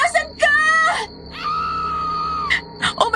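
A woman in a horror audio drama screams and wails in long drawn-out cries, loud and close, broken by short gaps and sobbing bursts.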